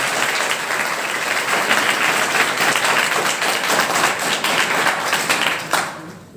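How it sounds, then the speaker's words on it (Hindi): An audience at a yoga session claps for a yoga teacher, producing a dense, steady round of applause that holds strongly and then tapers off at the end. "आप उनके लिए ताली बजाकर।"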